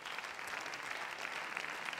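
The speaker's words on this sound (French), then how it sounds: "Vous applaudissez Café Launay" Audience applause for a coffee company, Café Launay, at a business event in France; steady, dense clapping from a crowd fills the whole stretch at even loudness, with no voices over it.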